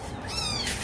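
A small rescued kitten, found thrown into a vacant lot, gives a single high, thin meow, close and clear over faint background noise.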